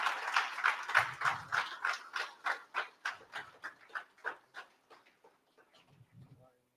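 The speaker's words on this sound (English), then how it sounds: "can we give a round of applause and welcome to Lady Joy Zenz" A round of applause at a London leadership conference: a steady train of loud handclaps that gradually thins and fades, with a few murmured voices at the start and end.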